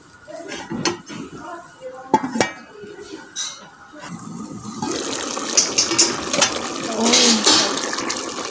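A lid clatters onto a metal pot of chicken adobo in a home kitchen, with light clinks and scrapes of cookware, followed by a steady, louder simmering and bubbling hiss that fills the rest of the clip.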